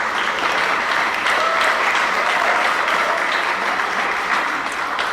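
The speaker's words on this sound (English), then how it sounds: "So please give them a round of applause." A civic audience applauds the police chief and department at a city's State of the City address, a full, sustained burst of clapping that stays loud and constant from start to finish.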